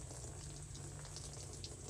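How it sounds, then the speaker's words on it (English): Greenish fuel is drained from a trash-picked pressure washer into a tub, giving a quiet, continuous gushing trickle with no talk over it. "I hate to be pouring fresh fuel out like this"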